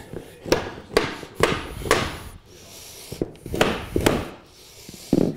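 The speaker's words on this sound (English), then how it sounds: "get it on the ground and kind of manipulate it nice and tight here, and then hammer that in" Sharp wooden knocks strike at an irregular pace, about a dozen hammer hits driving an engineered hardwood flooring plank into place, close by, with scraping between blows.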